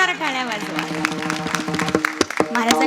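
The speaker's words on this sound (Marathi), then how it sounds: "त्यांच्यासाठी सर्वांनी जोरदार टाळ्या वाजवा." An audience at a kirtan gathering breaks into applause for the visiting maharaj, a burst of clapping following a voice speaking over a steady musical drone.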